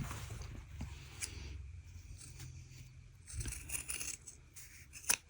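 Scissors trim the seam allowance of a cotton sundress at the top of its straps, soft close snips and fabric rustle spread across the clip, ending in one sharper cut.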